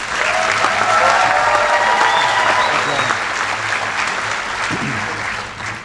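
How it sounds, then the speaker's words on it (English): Audience applause fills a commencement ceremony hall, a steady dense clapping from a large crowd that stays loud throughout and tapers slightly toward the end. "there's clapping going on, so somebody must be out there"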